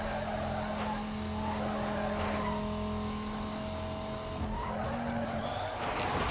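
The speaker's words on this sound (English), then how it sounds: "On the brakes right before I slam into the wall" Tires squeal and skid under hard braking in Need for Speed: Most Wanted (2005, PS2), a sustained high screech riding over a steady droning race-car engine, with a harsher scrape near the end.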